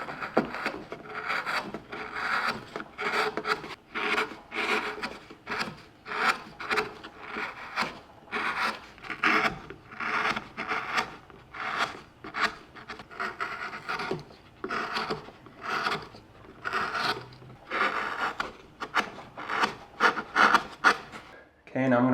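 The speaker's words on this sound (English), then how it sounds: "add that gouge stroke texture on the leaf here" A small wood carving gouge cutting texture strokes into a carved wooden maple leaf, a rhythmic series of short scraping rasps about once a second, close and fairly quiet, with no talking.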